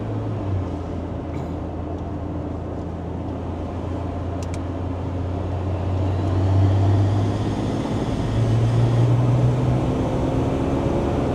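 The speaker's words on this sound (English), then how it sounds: "Makes all the boost noises." Land Rover Defender fitted with a BMW M57 diesel engine under acceleration, a steady low engine drone rising in intensity around the middle with turbo boost whine, close and continuous, with no talking.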